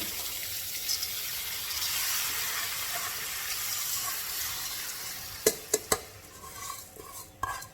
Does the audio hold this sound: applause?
no